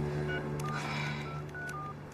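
Telephone keypad dialing tones sound as a quick sequence of short, faint electronic beeps in a quiet room, with no talking.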